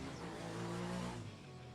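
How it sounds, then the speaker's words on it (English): Formula Student race cars drive down the main straight, a faint engine drone with a rising and falling pitch as they pass at a distance. "Already both cars on the main straight."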